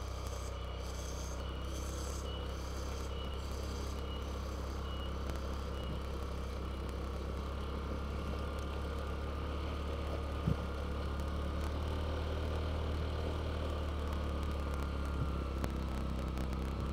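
Several vehicles in convoy climbing a steep, landslide-prone mountain road on Mount Lio in Central Java, heard from inside as a steady engine drone and road rumble with a few faint clicks and bumps.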